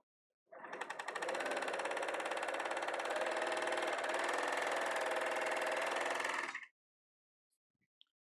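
A sewing machine stitching a bag runs as one loud, steady, fast whirring hum for about six seconds, then stops, followed by a faint click.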